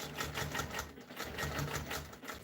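A sewing machine stitches in the ditch at a slow, creeping pace, its quiet, rhythmic mechanical chatter coming in short repeated bursts close by.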